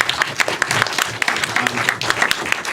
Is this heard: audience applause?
yes